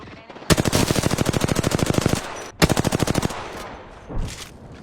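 Rapid machine-gun fire in a shooting video game: a long, loud, steady burst of close shots, a brief pause, then a second shorter burst, followed by quieter ambience and a faint sound.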